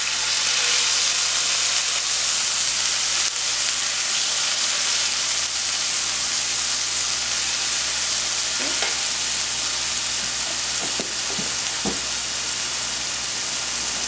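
Garlic and ginger fry in olive oil in a pan, giving a steady bright sizzle that holds evenly and closely throughout, with a few faint clicks and stirring touches near the end.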